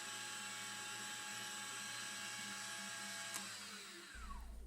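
A drill runs steadily through a model locomotive oil pump body for a Pennsylvania A3 switcher, a continuous whining hum that drops and winds down near the end as the bit breaks through.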